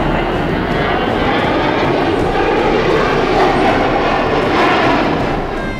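Chinese fighter jets, J-10, J-11 and J-16 types, flying overhead: a loud continuous jet engine roar that holds steady throughout, with no voices.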